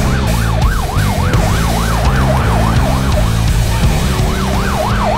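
Fire department emergency vehicle siren wailing loudly and continuously in a fast rising-and-falling sweep, with a deep engine rumble underneath.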